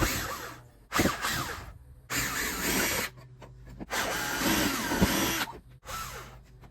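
A power screwdriver or drill backs screws out of the ceiling control panel of an RV roof air conditioner, several close whirring bursts of a few seconds each, separated by short pauses, with no voices.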